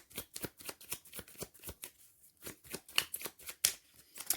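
A deck of tarot cards is shuffled by hand in quick, rhythmic riffling bursts with brief pauses, close and crisp, with no talking.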